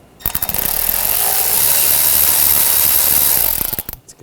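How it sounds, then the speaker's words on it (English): Ratchet clicking rapidly and steadily with a 7mm socket on a worm clamp of a 2013-2019 Ford Escape 2.0L engine, close and continuous for about three seconds, alone without talk. "I'm going to use a 7mm socket."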